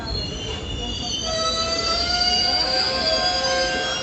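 A moving train between Rourkela and Bhubaneswar rumbles loudly and continuously up close, its wheels squealing in long sustained high-pitched tones on the rails over a dense rolling rumble.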